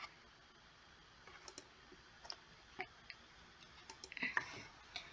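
A computer mouse being clicked repeatedly at an irregular pace, faint and close, each click a sharp small tick over quiet room noise.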